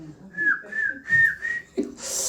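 A man whistles a wavering tune in a church sermon setting, several sustained phrases with brief gaps, close and clear, ending in a short breathy rush.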